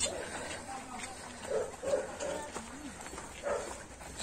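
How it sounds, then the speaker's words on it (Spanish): Small dogs barking in faint, scattered yips mixed with outdoor background noise. "Son tus perritos."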